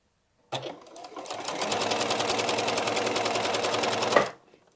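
A sewing machine runs for about four seconds as it stitches a snowball piece onto a bat quilt block, a close, steady, rapid mechanical whir that starts and stops abruptly.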